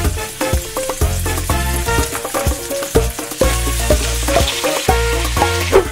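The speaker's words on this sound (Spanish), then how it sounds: "Una vez que esté caliente el aceite, vamos a poner las carnes. Hay que dorarlas." Meat browns in hot oil in a cast iron pan, a loud, steady sizzle and crackle throughout, with stirring and clattering knocks breaking in rhythmically.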